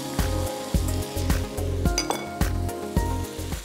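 Capsicum hits a hot pan while fried rice cooks: a steady sizzle runs throughout, with a utensil clinking against the pan at a regular, rhythmic pace.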